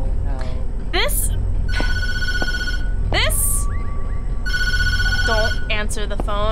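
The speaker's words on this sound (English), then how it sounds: "Don't answer the phone." A telephone rings in repeated electronic trilling bursts, loud and close, with people talking over and between the rings.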